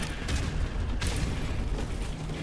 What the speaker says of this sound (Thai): โอ้ยระเบิดสองลูก